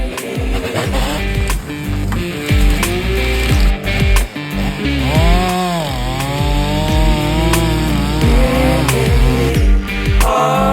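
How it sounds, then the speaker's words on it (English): A big Stihl 460 Magnum chainsaw cutting firewood outdoors, loud and close, its engine droning steadily with rising and falling revs through the whole stretch. "he's got this big old Stihl 460 Magnum, and we're gonna go cut some firewood"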